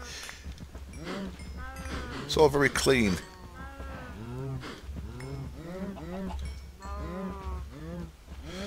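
Cows low repeatedly in a Minecraft FTB Unleashed world, several drawn-out moos in sequence over a steady low hum, while someone talks over the middle of it.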